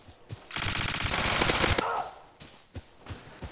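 Rapid automatic gunfire rattles in a browser-based shooter video game, a loud sustained burst of about a second and a half followed by a few sharp single shots.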